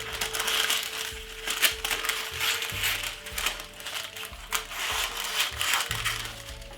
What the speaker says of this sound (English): Let's cut off a little piece on the outside. I'll use the scissors.